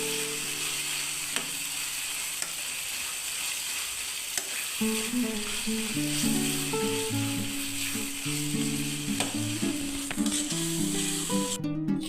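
Ginger sizzles in a pan of capsicum rice and is stirred, making a steady close hiss with light scraping under a melodic musical backing.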